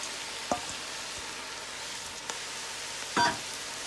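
Three cups of washed brown rice go into a hot pot for vegetable Mexican rice, setting off a soft, even sizzle with a few sharp clatters of the grains landing.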